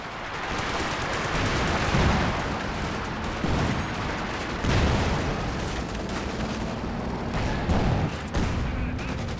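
Battlefield fire in Company of Heroes 2, where a Sherman tank is firing high explosive shells: dense, continuous gunfire with several heavier booming thumps rising out of the steady din.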